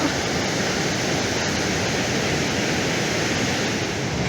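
Ocean waves at San Carpoforo Creek beach, heard from just inside a cliff, make a loud unbroken roar of surf, dense and even throughout with no voices.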